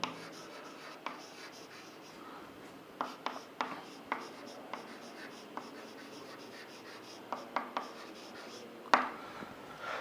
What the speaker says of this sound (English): I will write the second one here.